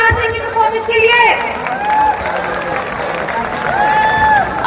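A crowd at a college freshers' welcome event claps and cheers loudly and steadily after a singing performance, with voices calling out over the dense applause throughout.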